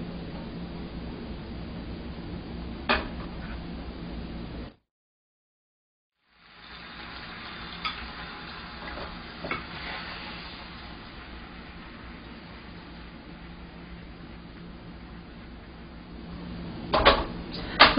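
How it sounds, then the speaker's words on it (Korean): Beaten egg fries in oil in a pan for a thin egg sheet for Chinese spring rolls, giving a soft, steady hiss of sizzling with a brief silent gap and a few small clicks and taps. "그 다음에 저는 계란을 두 번 나눠서 부치려고 하겠습니다"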